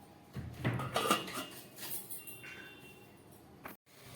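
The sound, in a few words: lid put on pot of mixed dal, gas turned off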